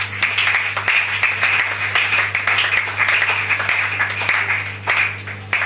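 A church congregation applauds for the Lord during a sermon, loud sustained clapping from many hands with swelling waves of rhythmic claps throughout.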